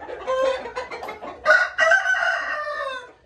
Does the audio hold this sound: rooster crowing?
yes